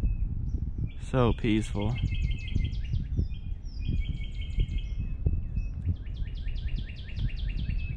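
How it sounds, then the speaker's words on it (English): Birds chirp in quick repeated trills outdoors by a creek, close and clear, while a person speaks briefly over them against faint background rustle. "Listen at the birds chirping"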